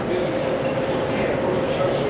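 Moscow metro train running with a steady, loud rumble and rushing roar throughout, heard from inside the carriage with no breaks.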